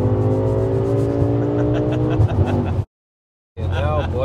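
A 1070 hp Audi RS6 with a stage 3 gearbox accelerates hard, its engine note climbing steadily with loud turbo whine, cuts out briefly at a gear change, then surges again while people talk inside the car.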